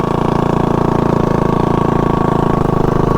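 A Rascal GT drag mini bike's small engine runs steadily up close, a loud, even mechanical drone with fast rhythmic firing pulses and no talking.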